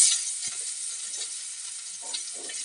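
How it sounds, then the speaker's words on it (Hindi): Onions fry in hot oil with mustard seeds and garlic for poha, a steady close sizzle with a couple of soft stirring scrapes, no talk. "प्याज हल्का ब्राउन होने तक इसको भूनूंगी।"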